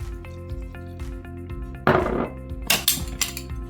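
Caesar salad topped with grated Parmesan and cucumbers being tossed in a bowl, giving a few soft rustles followed by brief clinks and knocks of utensils against the dish.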